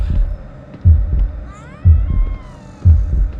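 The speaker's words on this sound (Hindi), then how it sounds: "मुझे नन की यहाँ पे धड़कन सुनाई दे रही थी, धक धक धक धक" A steady, throbbing heartbeat in the Evil Nun horror video game, three heavy low thumps about a second apart over a quiet hum, with a brief wavering tone in the middle.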